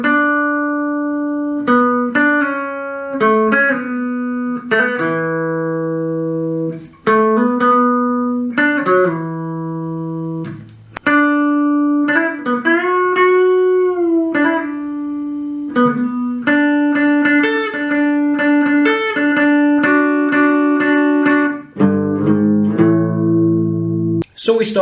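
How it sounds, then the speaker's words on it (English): An electric guitar plays the solo from a song as a clean, close sequence of melodic single notes, slides and bends, with short pauses between phrases and a chordal ending. "So now let's get to the awesome guitar solo"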